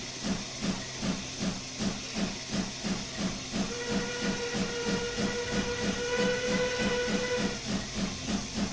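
A steam locomotive in a Minecraft train mod starts off, puffing in a steady rhythmic chuff with continuous loud hissing steam and a sustained whistle-like tone rising partway through.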